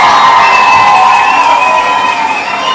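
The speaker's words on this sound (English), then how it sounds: "Join me in giving attacking a round of applause." A crowd at a political rally cheers and whoops loudly, a dense roar of voices sustained close and fading slightly at the end.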